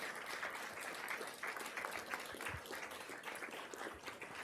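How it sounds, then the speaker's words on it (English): A community forum audience on Medicaid applauds in a hall, a moderate, fairly distant wash of clapping that holds steady for several seconds. "We have a round of applause for our..."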